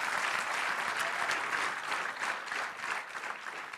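Steady, dense applause from an audience at a mayoral event at Gallaudet, many hands clapping continuously at an even level, moderately loud and without talking.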